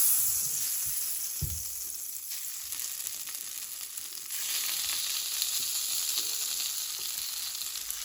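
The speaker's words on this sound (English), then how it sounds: "I've got some margarine melted in this pan here" Steady, bright sizzling of pierogi frying in melted margarine in a pan, continuous and fairly loud, with a brief low knock near the start.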